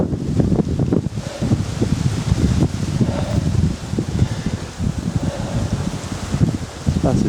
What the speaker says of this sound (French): Toujours ce vent de fou.